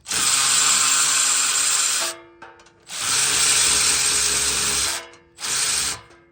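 A power tool spins off the trailer hitch bolts on a Jeep, whirring in three loud, sustained bursts with short pauses between them and no talking.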